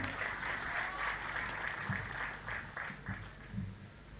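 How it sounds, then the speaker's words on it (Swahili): Audience applause for the Chair of the Council of Governors at an investment conference in Homa Bay County, a steady wash of clapping from a large crowd in a hall lasting several seconds. "Makofi kwa Chair, tafadhali."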